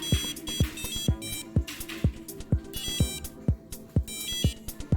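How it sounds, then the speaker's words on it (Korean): An electronic buzzer on a Raspberry Pi Pico W robot board beeps out a fast, bouncy Mario tune in sharp, repeating notes, with short low thumps keeping a steady beat underneath. "익숙한 마리오 멜로디와 효과음이 들리셨나요?"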